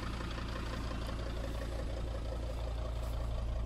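A Mercedes engine idles steadily after a complete cleaning, a continuous close low rumble with an even rhythmic throb and no talking.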